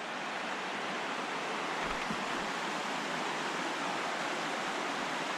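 A creek on the Big Creek Loop Trail in Olympic National Forest, Washington, rushes in a continuous broad hiss of flowing water, steady and fairly soft, with no voices.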